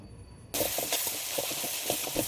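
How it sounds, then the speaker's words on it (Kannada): Chilli paste for fried rice hits a hot pan with a sudden loud sizzle, then keeps up a steady hissing fry with small crackles and pops, close and without talk. "ಆ ಪೇಸ್ಟ್ನ ಹಸಿ ಸ್ಮೆಲ್ ಹೋಗೋವರೆಗೂ ಚೆನ್ನಾಗಿ ಫ್ರೈ ಮಾಡ್ಕೊಳ್ಳಿ"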